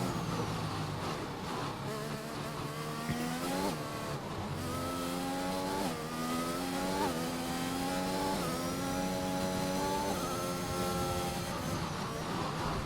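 Race car engine in a racing video game on an out lap at the China round, a steady high-pitched whine rising and falling through gear changes, loud and continuous with no talk.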